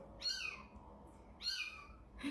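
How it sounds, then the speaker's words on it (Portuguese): Cats meow quietly indoors during a power outage, two drawn-out calls about a second apart with the start of a third at the end, each fairly faint against a low background hum. "Vocês estão ouvindo uns miadinhos aqui, né, gente?"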